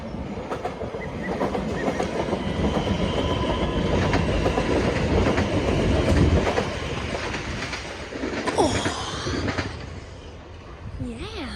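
A train runs through Broxbourne station, with a loud, rhythmic rumble and wheel clatter building and holding for several seconds. It then fades as high wheel squeals ring out near the end.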